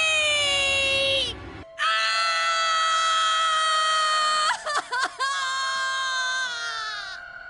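A Virtue's Last Reward video game character lets out long, loud, sustained screams, broken by a brief pause and a few choppy, strangled bursts midway, with no other sound.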